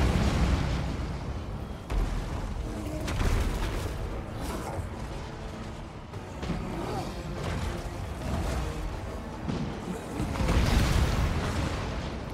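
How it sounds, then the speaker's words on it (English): A massive fantasy battle in a Warhammer-style strategy video game, orc forces against dwarf warriors at Karak Hirn, fills the soundtrack with continuous rumbling explosions and bursts, dense and loud, with booms swelling throughout. "the explosions in this game are freaking beautiful against these big targets here"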